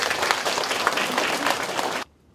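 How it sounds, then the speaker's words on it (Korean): A crowd at a community lecture gathering gives a welcoming round of applause for an arriving official. The dense clapping holds steady for about two seconds, then cuts off abruptly into near silence. "여러분 큰 박수로 환영해 주시기 바랍니다"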